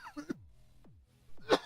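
Several short, sharp coughs close by, spaced apart with brief quiet gaps between them, and no talking.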